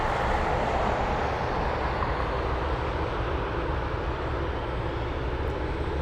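An Alaska Airlines jet lines up on the runway at Anchorage Airport, its engines giving a steady, broad rumbling roar at moderate distance that holds even throughout.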